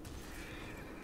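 A horse neighs in Diablo 3, a single whinny lasting about a second, loud and close over a dense game background, with no speech.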